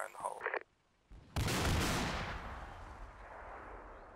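Explosive charges detonate with a single loud, sharp blast that then rolls out in a long, decaying rumble lasting several seconds, following a brief quiet pause after a voice at the start.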